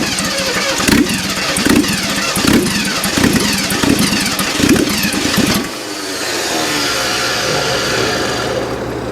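A 1979 GMC Heavy-Half pickup's 350 V8, running again after a starter fix, is loud and close, with a rough, pulsing idle that settles partway into a steadier, smoother run.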